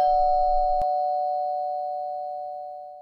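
A single electronic doorbell chime rings once at a house and then decays slowly into silence, clear and close with nothing else heard.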